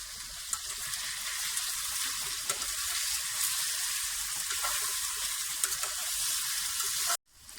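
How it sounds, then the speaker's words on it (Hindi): Whole crushed spices hitting a hot pan for chicken karahi, a loud steady sizzle and crackle that holds evenly close up, then cuts off abruptly near the end. "चिकन खड़ा मसाला बनाने के लिए अब मैं इसमें खड़े मसाले डालने लगी हूँ"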